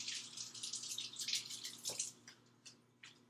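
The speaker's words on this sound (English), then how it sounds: "So I'm going to wash up this tomato." Tap water running over a tomato as it is washed in a sink, a quiet splashing hiss with uneven bursts and faint drips, close by and alone.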